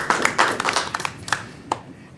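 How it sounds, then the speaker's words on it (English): A small group applauds a reappointed commissioner at a commission meeting with a short burst of scattered, uneven hand claps that quickly thins out into a few final claps. "So we can applaud that too"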